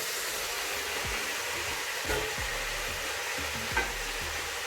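Onion frying in a pan with salt for Moroccan chicken couscous, a dense continuous hiss of sizzling oil with a few low thuds and scrapes of stirring, close and steady.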